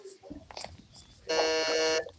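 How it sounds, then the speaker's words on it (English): A quiz-competition buzzer sounds once as a steady electronic tone lasting under a second, loud and clear, after brief quiet speech from the host. "In that case, Ariel, give me a buzzer check."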